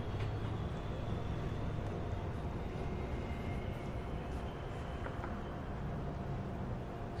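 A Manhattan-bound NYC subway 2 train gives off a steady broadband rumble and rattle with faint squeals and clicks throughout, moderately quiet and continuous.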